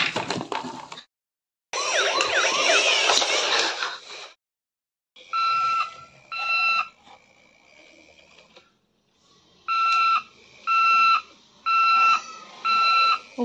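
A baby's battery-powered toy ambulance sounds its electronic siren when the switches on top are pressed, giving bursts of shrill beeping tones in a repeating on-off pattern, loud and close, with short silences between.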